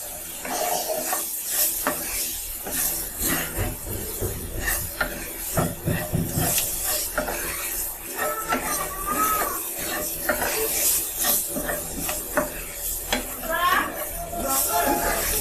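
A spoon scrapes and stirs through a frying pan where taro leaves cook with turmeric and chilli powder, a rhythmic rasping scrape over steady sizzling, close and loud, with a voice speaking at times.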